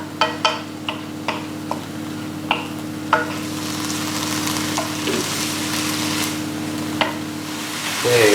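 Vegetables sizzling steadily in a hot pan for a tofu peanut curry, a continuous frying hiss with a low hum beneath it and scattered clicks and taps of a utensil stirring, close and fairly loud.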